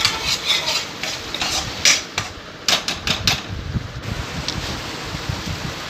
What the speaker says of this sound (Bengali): দেখো মশলা থেকে তেল ছাড়া না অবধি আমি ভালো করে কষিয়ে নিতে হবে